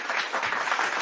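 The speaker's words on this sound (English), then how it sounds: "I want to give you a round of applause" A burst of audience applause at an agricultural association event, dense and steady clapping from a small crowd, fairly close, lasting about a second with no talk over it.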